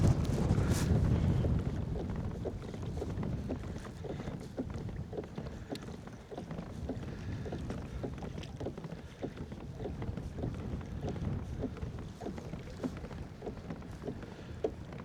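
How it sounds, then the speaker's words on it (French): Steady wind buffets the microphone on a reservoir during kayak camping and fishing, a low rumbling gust strongest at first, with small water slaps and knocks against the kayak throughout. "c'est un bon vent soutenu."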